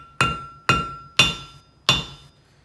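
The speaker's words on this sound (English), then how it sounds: "The trick now is to keep hammering down the rivet without bending the shaft of it" Four sharp metallic hammer strikes land on a rivet set into a leather lifting belt, evenly spaced about half a second apart, each ringing briefly before fading, close and clear with no talk.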